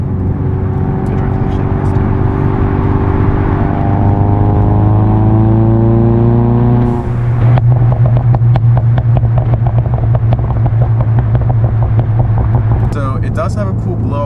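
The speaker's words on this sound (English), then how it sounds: "let's go ahead and do a pull and hear the car sounds" Ford Mustang EcoBoost with a blow-off valve revs hard through a full-throttle pull, a loud rising engine note climbing in pitch, dropping at a shift around the middle, then climbing again before easing off.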